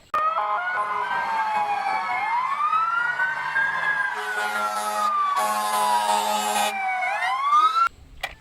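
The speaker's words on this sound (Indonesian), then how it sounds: "Di sini ada mobil pemadam kebakaran." A toy fire engine sounds a loud electronic siren that wails up and down in smooth sweeps, with bursts of static-like noise mixed in, before cutting off abruptly near the end.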